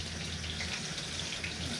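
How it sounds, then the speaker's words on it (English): Water pours out of a container used for growing crystals, a steady rushing, splashing stream running continuously at moderate volume. "pour the water out"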